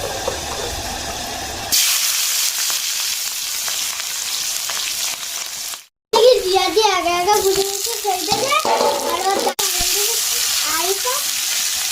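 Chopped onion and chilli hitting hot oil in a wok, setting off a sudden loud hiss that carries on as a steady, close sizzle, with a voice talking over it partway through.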